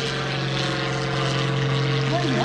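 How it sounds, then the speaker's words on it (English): A 350-horsepower aerobatic propeller airplane flies a knife-edge pass at an airshow over Greenwood Lake, its engine a steady, loud droning buzz throughout with a slight rise in pitch near the end. "Let's see if he's going to go knife edge with the airplane."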